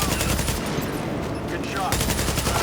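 Automatic gunfire rattles in sustained loud bursts during a firefight in The Division, with a brief lull before another volley.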